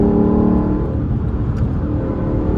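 A Lexus LC 500 V8 in sport mode accelerates, its exhaust a loud, close, deep rumbling roar with rising engine tones over a few seconds.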